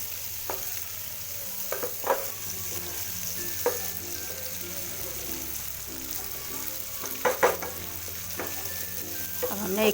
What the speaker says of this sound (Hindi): अब हमने 1 मिनट के लिए फ्राई कर लिया है लहसुन